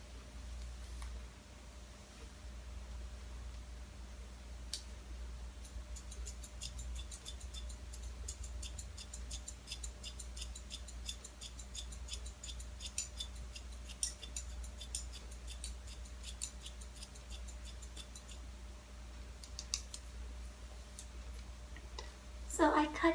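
Scissors trimming someone's own hair, heard as rapid, faint snipping clicks in scattered bursts over a low steady background hum, ending with a louder handling rustle.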